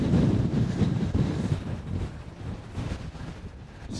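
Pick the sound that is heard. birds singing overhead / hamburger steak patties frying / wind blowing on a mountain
wind blowing on a mountain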